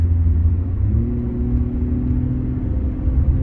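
Deep, steady engine rumble of a BMW 7 Series (G11) idling through an exhaust system simulating a Nissan GT-R sound, with a small rise in pitch, continuous and close with no voices.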